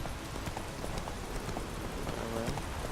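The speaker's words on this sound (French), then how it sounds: "Petite balade en cheval bien sympa" Horse hooves clip-clop in a steady trotting rhythm while riding in The Witcher 3 video game, close and clear over a constant outdoor ambience.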